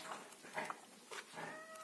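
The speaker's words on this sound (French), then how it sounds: "J'ai mon chat qui demande à sortir." A house cat meows faintly a few times, asking to go outside, short soft calls spaced apart against a quiet indoor room.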